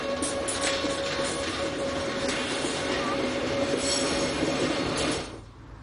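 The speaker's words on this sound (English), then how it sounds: "After Bergün, our train must gain height rapidly." A Glacier Express train climbs the looping line near Bergün, its steady rumble and rail noise continuous and close, with a thin wheel squeal running throughout before the sound drops off sharply at the end.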